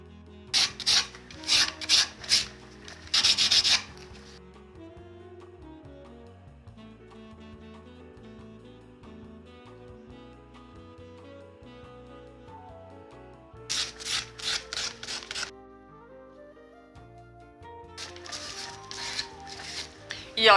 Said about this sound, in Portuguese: Eu dei uma desgastada aqui na madeira com a lixa